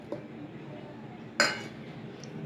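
A spoon clinks twice against a dish while raisins, almond powder and grated coconut are mixed in it, one sharp clink standing out over a quiet background.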